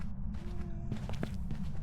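Ghost footsteps in the Phasmophobia video game, a short run of several quick, muffled steps over a low rumbling background, rounding a corner at moderate distance, with no talk.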